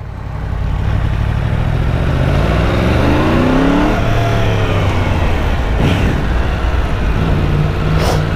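Yamaha MT10 (FZ10) motorcycle engine pulling in first gear, a loud close continuous growl with revs rising and falling in sweeping pitch changes, no voices over it.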